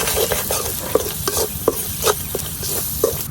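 A spoon stirs onion, garlic and spices frying in a pan, repeated scraping strokes roughly every half second over a constant oily sizzle, close and clear.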